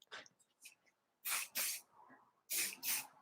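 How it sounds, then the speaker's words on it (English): Spray wax misted onto hair in two paired bursts, each a sharp close hiss of two quick puffs separated by a pause, with faint rustling and soft handling noises before them. "Spray wax."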